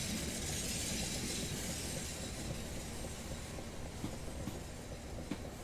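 A Class 465 Networker electric multiple unit in Train Simulator, Southeastern service from London Victoria to Orpington, accelerates with a steady, dense rolling roar and broadband traction hum, faint clicks of wheels over rail joints scattered throughout, no voices.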